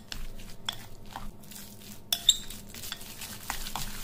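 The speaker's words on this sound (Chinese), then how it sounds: "肉先进行充分搅拌，多搅一会" A spoon stirring minced meat filling mixed with a whole egg and starch in a bowl, producing soft wet squelching and light scraping taps in a steady, close, quiet rhythm.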